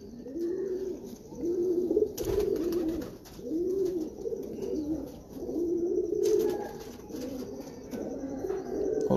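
A breeder's pigeon coos repeatedly in a steady rhythm of low, rolling phrases close up, each phrase rising and falling, with a couple of sharp knocks or rustles in between.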